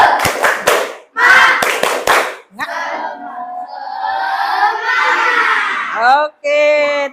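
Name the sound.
class clapping hands in a rhythmic spirit clap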